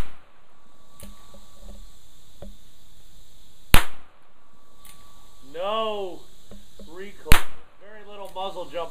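A Ruger Single Ten single-action revolver fires cheap Remington Golden Bullet rounds at a target about 15 yards away. Two loud, sharp, close shots crack several seconds apart, and a voice talks between them.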